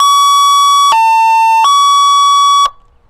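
Lexus GX460 fitted with a police siren, sounding an ambulance-style wail: a loud, steady electronic tone that steps down in pitch, rises back, then cuts off abruptly, with no talking.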